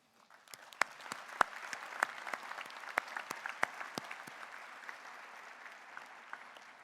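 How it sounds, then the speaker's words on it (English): Audience applause at a George Brown College convocation ceremony honouring graduates' families, steady clapping from a crowd with distinct sharp individual claps standing out nearby, continuing evenly throughout. "Family, friends, and loved ones, let's applaud them."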